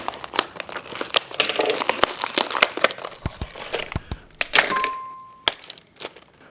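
Crinkling plastic packaging of a Star Wars toy being cut open with scissors, sharp cracks and snips, irregular bursts of crumpling handled up close, then a few isolated clicks near the end.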